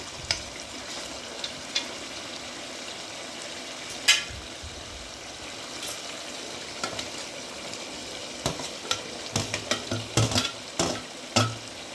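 Mutton sizzles steadily in a pot with spices and tomato, a continuous close frying hiss broken by clattering stirs and scrapes that grow busier toward the end.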